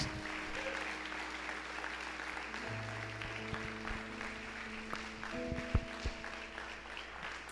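A church congregation applauds during a Portuguese-language service, soft sustained clapping heard from a distance beneath lingering organ or keyboard tones.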